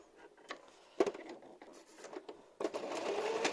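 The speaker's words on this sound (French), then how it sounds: "Au point zigzag, point d'arrêt, on commence, on avance, on ne va pas jusqu'au bout." Sewing machine stitching a zigzag seam on a fabric filter, short stop-start bursts of whirring, then a steadier close run of stitching to the end.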